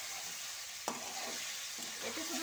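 Beef on the bone with bottle gourd stir-fried in a pan, a steady soft sizzle with one sharp scrape of a spatula near the start and a few faint stirring clinks later.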